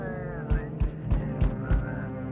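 Rhythmic snoring from a sleeping character in the horror game Got Room For One More, five low snorts roughly every third of a second over a steady background hum.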